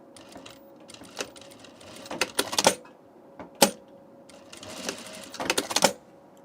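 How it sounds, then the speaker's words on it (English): A sewing machine sews a back stitch on a tunic in short, quiet mechanical bursts of rapid needle clatter, separated by pauses and small clicks. "We're just going to put a back stitch."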